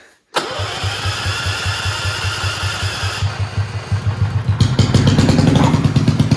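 A Detroit Diesel engine cranks and fires up, settling into a loud, steady, pulsing idle before being revved hard near the end, the throttle bursts rising in a rapid, chugging rhythm.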